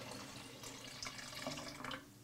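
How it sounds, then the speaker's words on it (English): Running water pours steadily from a tap into a pot as a gallon is added to a boiling turkey brine of cider vinegar and pepper, a continuous close splashing rush with no talk. "To that, we are going to add about another gallon of water."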